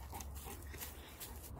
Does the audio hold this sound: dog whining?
yes